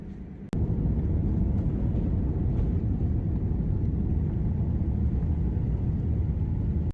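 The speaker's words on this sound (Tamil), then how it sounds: "ஃப்ளைட் வந்து டேக் ஆஃப்க்கு ரெடி பண்ணிட்ட" Inside a Thai Airways airplane on its takeoff run, a dense, loud engine roar and cabin rumble sets in abruptly after a brief click and holds steady and heavy to the end.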